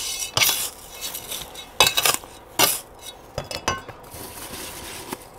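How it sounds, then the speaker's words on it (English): Gravel is poured and scattered into a planting bowl for a succulent arrangement, coming as several sharp gritty rattling bursts with small clinks between them, close and fairly loud, with no speech. "First of all, a bit of gravel to open her up."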